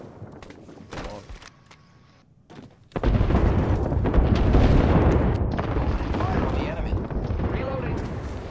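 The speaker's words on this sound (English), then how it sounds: "Don't push him in this airstrike." Airstrike explosions in the battle royale shooter Apex Legends, a sudden heavy barrage of booming blasts that rumbles on loudly and densely for several seconds, with players talking over it.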